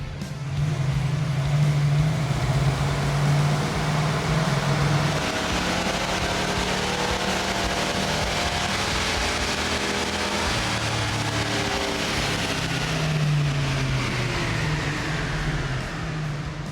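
An AMC Javelin's engine roars on a dyno pull, a loud sustained drone whose pitch climbs and falls as it revs, steady and close throughout with no talking over it.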